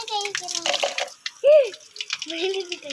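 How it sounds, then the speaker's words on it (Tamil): Water poured on a rooftop terrace in hot weather, a splashing, trickling flow with a brief louder gush, while people talk throughout. "நம்ம மாடியில் வந்து கொஞ்சமாக தண்ணி விட்டுட்டு போயிடலாம் அப்படின்னு சொல்லிட்டு வந்திருக்கிறோம்"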